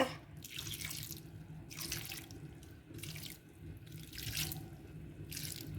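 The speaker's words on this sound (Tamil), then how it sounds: "இப்போ தண்ணி விடுவோம் இதுக்கு" Water pours in repeated splashing bursts into a cooking pot, about five pours with short pauses between them, close and clear.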